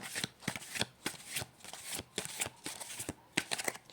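Tarot cards are shuffled close by in quick irregular riffling bursts separated by short pauses, fairly quiet, with no talk.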